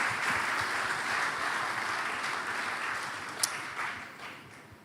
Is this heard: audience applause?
yes